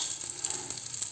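Cumin seeds and dried red chillies sizzle in hot oil for a dal tempering, a steady close crackling hiss for a brief moment with no voices.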